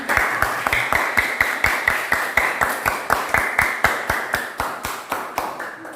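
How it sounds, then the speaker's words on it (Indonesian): An Indonesian class claps for a group presentation with a single even, sharp clap pattern, about three to four crisp claps per second, loud and close, repeating steadily throughout with little talk. "Tepuk tangan dulu untuk kelompok 3."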